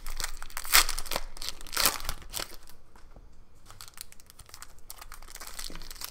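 Foil wrappers on Panini Prizm basketball retail card packs are torn open and crumpled close up, giving loud bursts of crinkling and tearing that settle into softer rustling.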